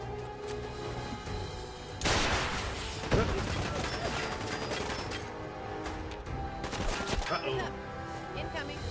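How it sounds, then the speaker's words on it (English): Launchers firing in the video game Fallout: a sharp, loud blast followed by a dense rumble of explosive gunfire, with another hit a second later amid a busy battle din. "I'm hearing launchers."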